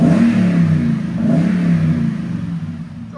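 Toyota Tundra 5.7L V8 with a Borla ProXS exhaust revs steadily, giving a loud, deep, continuous exhaust drone close to the truck.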